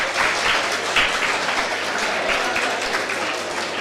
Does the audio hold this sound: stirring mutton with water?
no